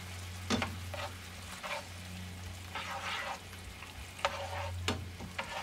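Tofu curry with coconut milk, curry powder and garlic powder being stirred in a pan, giving a steady sizzle with a few sharp scraping strokes and clinks of the utensil against the pan.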